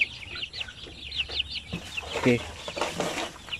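Oriental-breed chickens such as Shamo cluck and squawk in a yard, a run of quick repeated calls followed by louder agitated bursts, with a voice briefly speaking among them.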